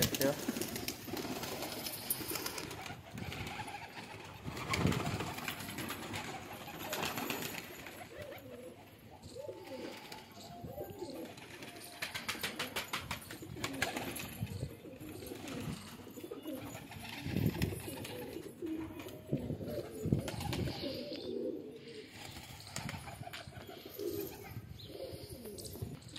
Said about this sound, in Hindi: चलिए गाइस खोल देते हैं कबूतर ये वाले भी